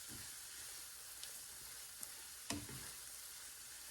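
Potatoes and onions with bacon sizzling in a pan, a steady close hiss of frying with a few soft clicks and one sharper knock of a utensil, no talking.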